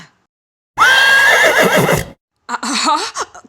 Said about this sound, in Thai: อะไรกันนะที่สามารถทำให้ม้าวิญญาณตื่นตระหนกได้ขนาดนี้